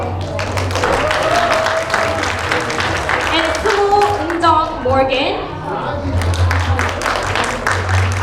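Audience applause at a Korean festival in Orlando rises and falls beneath an announcer's amplified voice and chatter, with clapping most evident at the start and the end.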